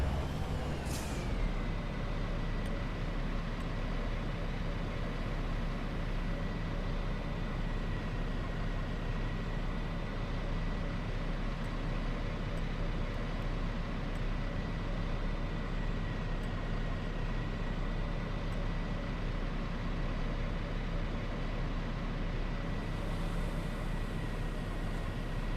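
Fendt tractor of about 420 horsepower working a field in Farming Simulator 25, with a steady loud engine drone and a short hiss at the start, with no speech.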